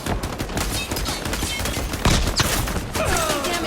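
Gunfire in the online shooter Highguard, with dense overlapping shots and rapid automatic bursts that stay loud and continuous over a busy game soundscape.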